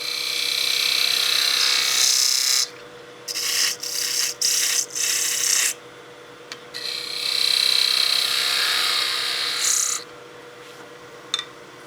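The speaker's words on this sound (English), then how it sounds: "I will use my spindle gouge, my 3/8" A 3/8 spindle gouge cuts into a spinning wooden Christmas gnome on a lathe, giving bursts of raspy, hissing scraping that stop and start in short passes over a steady motor hum.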